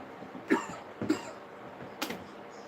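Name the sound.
cough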